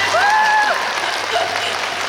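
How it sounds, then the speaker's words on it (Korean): Festival crowd at an outdoor film open talk in Busan applauding loudly and continuously, with a brief tonal whistle-like sound over the dense clapping. "박수 부탁드립니다"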